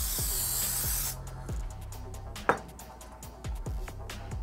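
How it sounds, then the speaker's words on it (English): Aerosol baker's flour spray (an aerosol flour) gives a steady, close, loud hiss lasting about a second, then cuts off, leaving quiet kitchen handling noises. "I've got some of this baker spray, which is just an aerosol flour"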